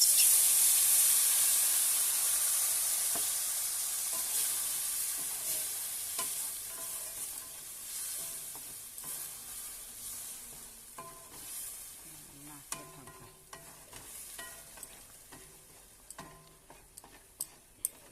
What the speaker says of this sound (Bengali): যতক্ষণ না সুজিটা শুকিয়ে ঝুরঝুরে হয়ে যাবে, ততক্ষণ সুজিটাকে আমরা এভাবে নাড়তেই থাকবো।